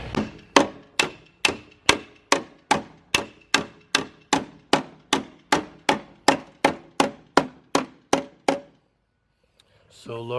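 Hammer and dolly strike a horse trailer's metal fender in a steady rhythm of about twenty sharp ringing taps, close and loud, then stop before a voice begins speaking.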